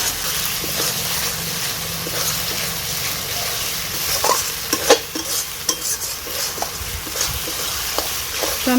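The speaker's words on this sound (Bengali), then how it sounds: "টমেটো কুচি দিয়ে বেশ কিছুক্ষণ নেড়ে চেড়ে নিলাম" Chopped tomato being stirred into frying onions in a pan, with steady sizzling and repeated scraping stirs and utensil knocks.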